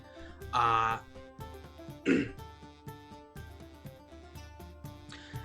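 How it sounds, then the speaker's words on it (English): A cough bursts out, then a second shorter one a moment later, both over soft background music with a steady beat. "And another cough."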